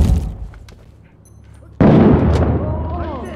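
A frag grenade goes off in the video game Six Days in Fallujah, a single loud, sharp blast that bursts in abruptly after quieter background noise and rumbles on with debris and a ringing tail.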